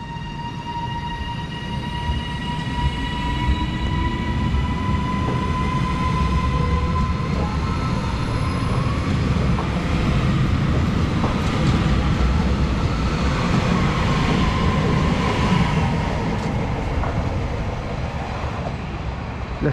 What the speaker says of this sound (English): We'll film this train go out and then get to our final station where we'll finish up.